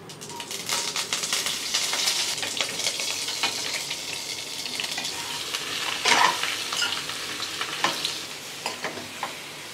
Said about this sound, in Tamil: கடுகு போட்டுக்கலாம், சும்மா தாளிக்கிறதுக்கு தான் இது.